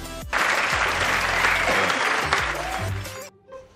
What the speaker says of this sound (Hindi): सो तालियां।